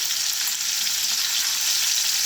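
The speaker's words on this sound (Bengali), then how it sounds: "টমেটোটা ভাজা ভাজা হয়ে গেছে, এবারে আমি জিরে বাটা দেব," Tomato fries in a pan for a Bengali potato dum, giving a loud, continuous close-up sizzle with no pauses and no speech.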